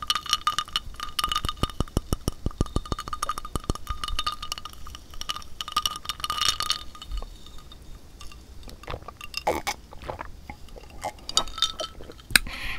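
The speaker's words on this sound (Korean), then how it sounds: "얼음 소리 ASMR?" Ice cubes clink and rattle against a glass of iced Earl Grey drink, a dense run of quick sharp taps early on that thins into scattered, irregular clinks and small liquid sounds, close and clear with no talk.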